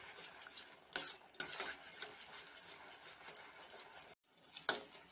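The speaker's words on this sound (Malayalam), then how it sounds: "കുറച്ച് സമയം നമുക്ക് ഈ നെയ്യിൽ അരച്ച ക്യാരറ്റ് ഒന്ന് വഴറ്റി കൊടുക്കാം." Grated carrot sautés in ghee, with quiet frying and repeated scraping and stirring of a spoon in the pan, plus a couple of sharper knocks. It is faint and close, with a brief silent gap.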